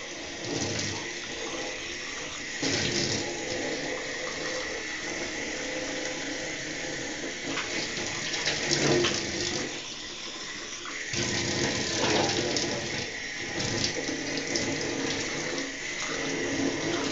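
A kitchen tap runs steadily while a small child washes dishes at the sink, a continuous close hiss of splashing water with brief clinks of plates and glasses and no talking.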